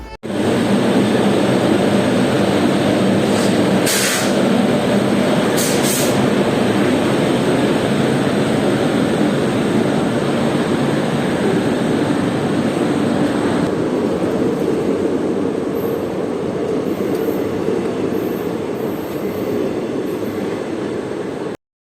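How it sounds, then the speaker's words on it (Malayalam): Thrissur–Kannur Express train arriving: a loud, steady rumble and roar of rolling rail cars that holds for over twenty seconds, with brief higher squeals and clanks from the wheels and no talk. "അത് കഴിഞ്ഞിട്ടാണ് ഈ തൃശ്ശൂർ കണ്ണൂർ എക്സ്പ്രസ് എത്തുന്നത്"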